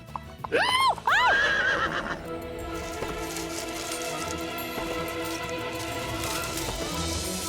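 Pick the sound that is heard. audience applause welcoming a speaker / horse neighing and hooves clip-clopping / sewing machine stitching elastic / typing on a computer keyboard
horse neighing and hooves clip-clopping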